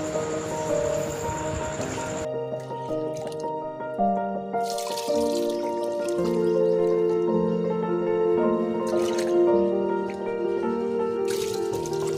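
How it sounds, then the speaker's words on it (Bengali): Water is poured into a pot of soil while repotting water lotus, Mexican sword lily and butomus plants, giving a continuous loud splashing, gurgling flow with shifting tones as the container fills. "এর মধ্যে এবার জল দিয়ে ভালো করে ভর্তি করে দেব।"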